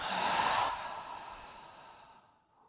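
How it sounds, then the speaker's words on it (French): During a yin yoga session, a deep breath is drawn in through the nose and released fully through the mouth, one long audible exhale close by that fades gradually. "Vous allez inspirer profondément par le nez et relâcher complètement par la bouche."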